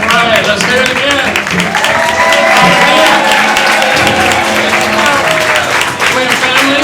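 An audience at a Kwanzaa program gives dense, sustained applause and cheering that fills the hall throughout, with voices mixed into the crowd.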